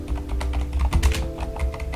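Rapid typing on a computer keyboard, with steady close key clicks over a low background hum and no talking.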